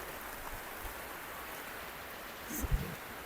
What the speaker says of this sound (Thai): ฝนตกครับผมท่านผู้ชมครับ